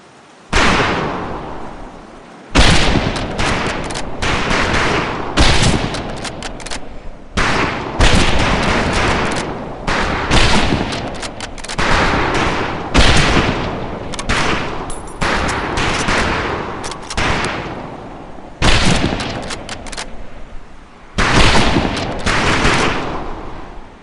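Rifles crack in rapid, overlapping volleys on a training range in the video game Medal of Honor Pacific Assault. The shots are loud and close and keep going without a break, with no voices.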